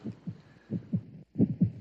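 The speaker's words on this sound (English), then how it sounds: "That sound you hear is a heartbeat" A slow heartbeat thumps in paired lub-dub beats, deep and muffled, repeating steadily with a brief silent gap before the final beats, alone with no talk.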